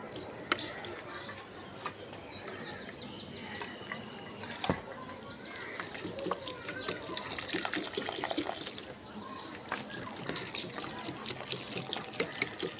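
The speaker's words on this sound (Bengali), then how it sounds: "গাছে পানি দিয়ে দিই" Water runs steadily from a tap to water plants on a hot day, a continuous close splashing and trickling with a few faint drips over the whole stretch.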